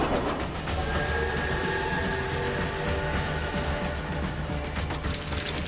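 A train rumbles steadily along railway tracks, a dense continuous roar with faint rhythmic clatter and a thin metallic whine, no voices.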